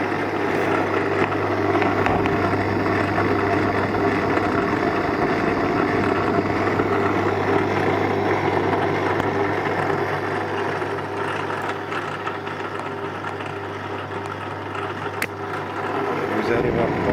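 The motor of a Durst RCP50 print processor runs with a steady, droning mechanical hum and whir at close range, holding constant for about sixteen seconds before cutting off near the end.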